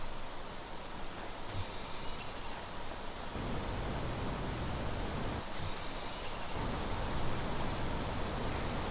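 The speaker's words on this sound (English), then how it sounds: "Yep, it's really raining." Steady, dense video game rain hiss from Planet Crafter fills the scene, shifting slightly in tone partway through, with no voices.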